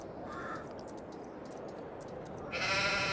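Sheep bleating on a farm in the Farming Simulator 22 video game, a steady layered chorus of animal calls over continuous ambient noise, rising louder near the end.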